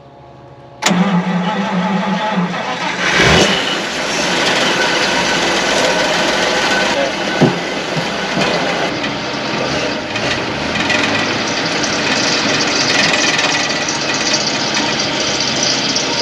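An old Pontiac straight-eight engine, unused for 51 years, cranks briefly, catches with a loud burst and settles into a rough, steady running drone, close and loud with no talking.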